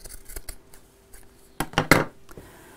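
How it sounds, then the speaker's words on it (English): Scissors cutting quilting fabric, a few quiet snips followed by louder crisp cuts close by, with faint clinks of the blades and no speech. "So I just couldn't see my scissors. So let's cut this off."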